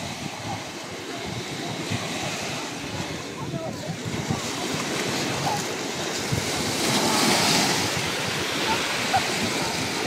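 Sea waves on a beach where pebbles run down into the water: a constant rushing wash of surf, swelling louder toward the end, with faint voices mixed in.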